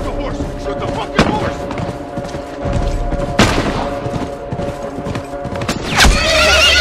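Galloping hooves and a loud whinnying horse in The Last of Us game combat, with gunshots and booms cracking over the scene while voices shout.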